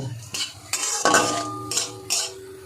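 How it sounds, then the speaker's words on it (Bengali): Fried whole spices being scooped out of a pan, several sharp metallic spoon-on-pan scrapes and clinks in quick succession with one ringing tone, close and fairly loud over a faint low sizzle. "মশলাটা ভাজা হয়ে গেছে, এবার আমি নামিয়ে নেব।"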